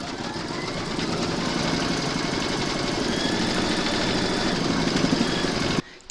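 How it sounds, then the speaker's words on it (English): Embroidery machine stitching an in-the-hoop coaster, a steady rapid mechanical chatter and hum running close and continuous before it stops abruptly near the end. "Load your thread colour for the quilting of the centre fabric into your machine and then stitch round number 5."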